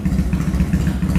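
A BMW R nineT motorcycle, converted to a carburettor and fitted with a free-flow exhaust, idles steadily after starting, with a loud, even low-pitched thumping pulse and no talk over it.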